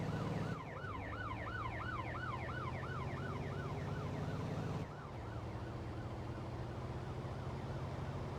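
A police car siren wails continuously in the Motor Town driving video game, a steady rising-and-falling electronic tone over a droning car engine, loud throughout with a brief break near five seconds.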